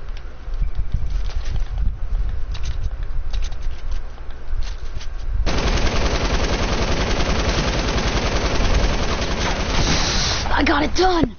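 A light minigun fires in a video game. Scattered gunfire is followed by a loud, dense, continuous rattle of rapid shots from about the midpoint to the end, with wind-like noise underneath.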